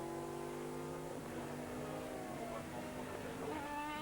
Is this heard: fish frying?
no